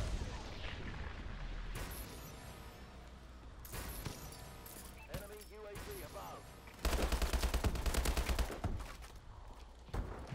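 Rapid automatic gunfire rattles in Call of Duty: Advanced Warfare multiplayer, sustained bursts with a louder, denser volley near the end, mixed with game effects and brief player chatter.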